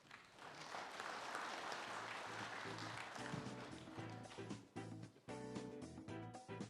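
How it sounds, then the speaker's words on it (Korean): Audience applause welcoming the host broadcaster's representative at a regional forum on former coal-mining areas, a dense, steady clapping that carries on for several seconds before thinning out toward the end. "박수로 환영해 주시기 바랍니다"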